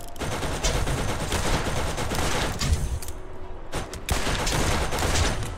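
Dense, continuous turret gunfire in the Borderlands shooter game, rapid overlapping shots rattling loudly throughout with a brief lull near the middle, no voices.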